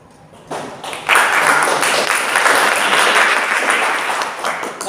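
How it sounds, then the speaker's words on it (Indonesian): Students in a campus class break into applause after a short quiet start, a burst of clapping that quickly swells and holds steady, fairly close and loud, with no talking over it. "Yang merasa setuju, tepuk tangan dengan adanya pembelajaran menggunakan Canva ini."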